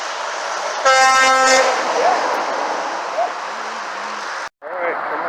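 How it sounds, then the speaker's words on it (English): A truck's train horns blast loudly at close range along an interstate, a stacked multi-tone chord holding for about a second over steady highway roar, with a faint passing toot later and people talking excitedly around it. "I have train horns because you're pretty nice."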